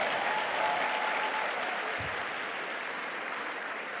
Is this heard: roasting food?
no